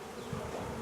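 Honey bees buzz during a hive removal from a speaker box, a short, dense, steady drone with no voices.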